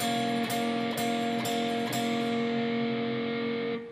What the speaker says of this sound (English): Here I'm going to pick those 2 notes in a downward motion 5 times.